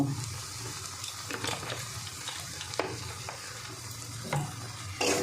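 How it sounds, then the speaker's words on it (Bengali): Prawn and pointed gourd paste frying in oil while being stirred, a soft steady sizzle with occasional scraping clicks of a spatula against the pan, close with no talk. "খুব সুন্দর করে এটা ভেজে নিতে হবে।"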